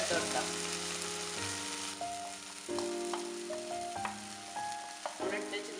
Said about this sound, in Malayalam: ഇനി നമുക്ക് ഇതിലേക്ക് മസാലപ്പൊടികൾ ചേർത്ത് കൊടുക്കാം.